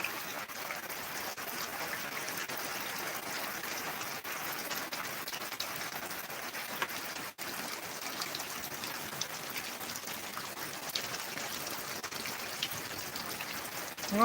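Rainwater from heavy monsoon rain pours through a mesh screen into a borewell for recharge, a steady broadband wash of falling and flowing water heard close and alone, with no voices.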